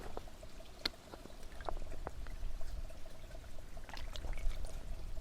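Water pours through a Katadyn BeFree filter into a bottle on a bikepacking or hiking trip, making a close, continuous trickling splash with a few sharp drips and clicks and no talk.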